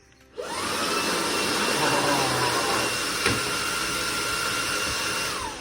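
A loud, steady electric hand dryer blowing hot air switches on abruptly and roars continuously with a broad airy rush, briefly dipping once before holding constant.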